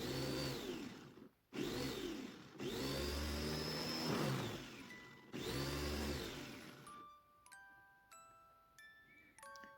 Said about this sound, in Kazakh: Енді осындай пияздарымызды шопперге салып, кішкене су құйып жіберіп,